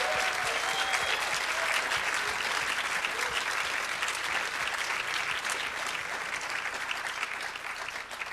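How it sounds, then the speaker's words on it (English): Sustained applause from an audience honouring competitors at a university Three Minute Thesis competition, an even wash of many hands clapping, steady and moderately distant, slowly easing toward the end. "I want to give a huge round of applause to all of our competitors today."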